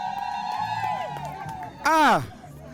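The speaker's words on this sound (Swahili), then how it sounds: "wapi shangwe na vigelegele kwa shangazi jamani?" Crowd at a celebration cheering and ululating, high trilling voices rising and falling with a loud swell of shrill cries near the end, mixed with shouts and scattered clapping.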